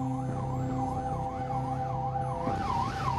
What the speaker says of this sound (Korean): 요란한 사이렌이 울리기 시작한다.